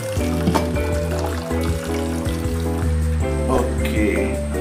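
Milk or tea being poured into a coconut shell cup while preparing tea, a steady close liquid stream with faint clinks and soft talk in the background.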